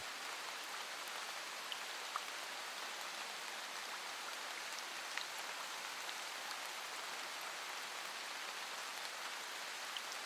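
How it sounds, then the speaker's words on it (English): Heavy rain pours down in a dense, steady deluge over an island, a continuous broadband wash with faint scattered drop impacts and no voices. "The rain reaches the surface of the earth and floods it."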